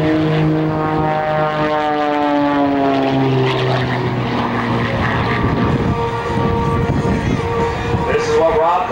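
An Ultimate 20-300S aerobatic airplane performs a power tumble and half roll over a mountain at the Wings 'N Wheels 2006 airshow. Its loud, continuous propeller drone sweeps steadily downward in pitch as the plane passes close by.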